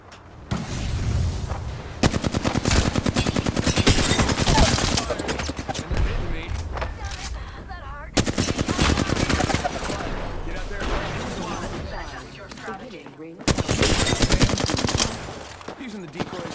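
Rapid bursts of automatic gunfire and heavy weapon shots in an Apex Legends battle, loud and sustained with brief gaps, voices talking over the fire.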